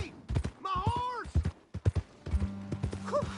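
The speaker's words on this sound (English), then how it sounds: "Hey! My horse!" Horse hooves clip-clop in an irregular rhythm in the Red Dead Redemption 2 game, loud and close, with a horse whinnying and a voice shouting over them.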